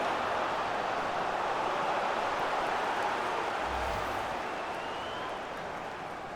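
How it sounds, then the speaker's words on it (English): A stadium crowd in the EA FIFA 23 video game, during a women's soccer match between Canada and China, roars in a loud, unbroken wash of cheering that eases slightly toward the end. "Wang Shuang being egged on by the crowd"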